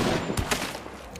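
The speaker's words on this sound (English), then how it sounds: "killing someone or hitting anything in the head has this beautiful, just this beautiful squishy headshot noise." A squishy headshot hit in the Hunt Showdown video game comes through as a quick cluster of sharp, close gunfire-like impacts over about a second.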